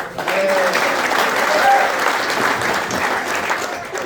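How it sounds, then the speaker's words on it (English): A large crowd at a sports league banquet applauds steadily for several seconds, a broad wash of clapping with a few whistles mixed in. "thank you for giving them all a well-deserved round of applause"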